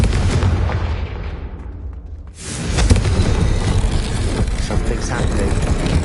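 A loud Confringo explosive spell blast in Hogwarts Legacy, a broad booming burst that swells and then rolls on as a dense rumbling roar with crackle.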